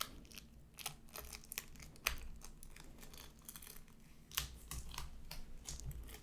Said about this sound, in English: I'm going to unwrap this and show you the covers